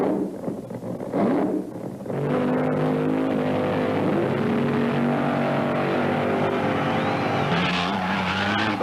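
The Chrysler-powered Chi-Town Hustler makes a 1975 drag strip run at Rockingham, a loud sustained engine howl with tire noise that settles into a steady droning pitch as it tears away down the track.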